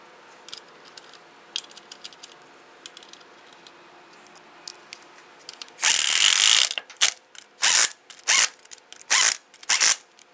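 Lug nuts are run down on a 2002-2008 Dodge Ram 1500 wheel with a ratchet. Faint clicks and handling come first, then a loud, close burst of ratcheting followed by four or five shorter ratchet strokes.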